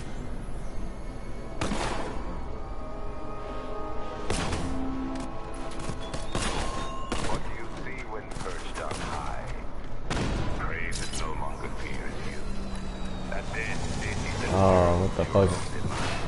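Gunfire in Batman: Arkham Knight, with scattered loud cracks and booms over a droning mechanical game background, spaced irregularly across the stretch while a voice talks throughout.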